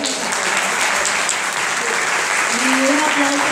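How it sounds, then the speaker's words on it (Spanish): Audience at an educators' gathering applauding throughout, a dense steady wash of clapping with a voice speaking over it toward the end. "Y un aplauso grande también a Alice, no está con nosotros."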